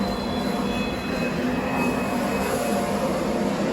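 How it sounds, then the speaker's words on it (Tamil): A New York subway train passes close by in a loud, steady roar of wheels and motor, with no talk over it. "அது உண்மையான சப்வே ட்ரெயின் தான்."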